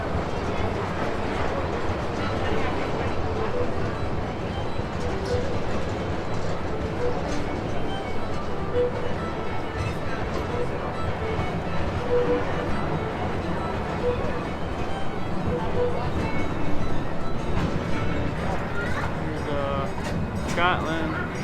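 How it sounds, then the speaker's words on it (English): The Busch Gardens Williamsburg park train rolls steadily along its rails, a continuous rumble with faint clicking and clatter throughout, while a voice speaks over it. "Please remain seated until the train has come to a full and complete stop."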